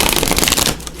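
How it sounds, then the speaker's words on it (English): Oracle cards riffled in a quick shuffle, a dense close burst of papery flutter and snapping that lasts about a second before cutting off. "So let me just give these a quick shuffle here."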